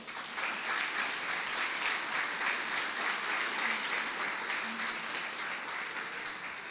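Steady, dense applause from a church congregation praising the Lord, many hands clapping together at an even level, rising quickly and holding throughout before easing slightly at the end.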